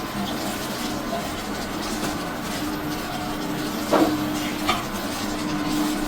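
Masala with chili powder frying in a pan for a rui fish curry, a steady low sizzle throughout with a couple of brief spoon scrapes and stirs near the end.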